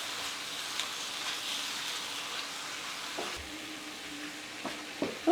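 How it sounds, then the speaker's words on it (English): Greens tossed in a very full skillet sizzle softly and steadily, with a few sharp scrapes and knocks of the utensil toward the end, close and fairly quiet with no voices. "light toss on this just to get it moving around and wilting a little bit"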